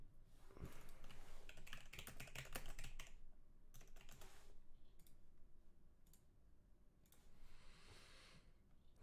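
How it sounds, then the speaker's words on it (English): Fast, steady typing on a computer keyboard during a logo design search, a dense run of close clicking keystrokes with brief pauses, heard alone with no talking. "go to type in Ninja or something"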